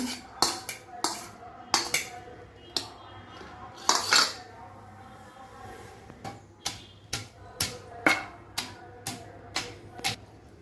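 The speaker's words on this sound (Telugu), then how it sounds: "చిన్నపాయలు నూరుకోవాలి" Shallots are pounded in a stone mortar for a tamarind-leaf and cucumber chutney, giving a steady series of sharp, close knocks and clinks with short pauses between strokes and no voice.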